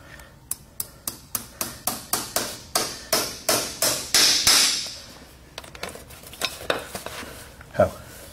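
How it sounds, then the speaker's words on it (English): Horseshoe nails for a classic roller shoe driven with a Kirkhart 7-ounce driving hammer: a rapid series of sharp metallic taps that quicken and tighten, then a pause and a few scattered, fainter clinks near and alone. "Kirkhart 7-ounce driving hammer."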